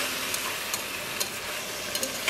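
Mutton pieces sizzle steadily in a pan over a high gas flame for a Bihari-style curry, giving a dense, even hiss with a few soft scrapes of stirring.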